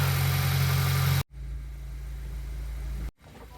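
A car engine idles steadily after its first oil change, a loud, even low rumble with no voices, broken by two brief dropouts.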